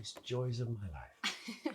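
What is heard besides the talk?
sneeze in the video game Not For Broadcast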